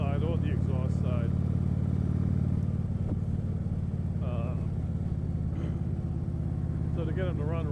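A restricted stock Harley-Davidson motorcycle engine, choked on both intake and exhaust, runs steadily with a low, even idle throb close by, while someone talks over it throughout.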